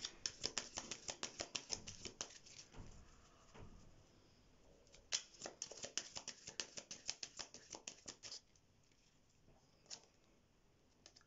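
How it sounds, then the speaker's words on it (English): A Romance Angels oracle card deck being shuffled, with rapid crisp riffling flicks of cards in several bursts and pauses between them, quiet and close, with no speech. "Let's get a card from the Romance Angels deck to finish."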